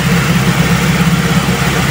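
Toyota car engine idling steadily at a raised 2,000 RPM, a loud, close, even rumble with a constant low hum and no breaks or voices.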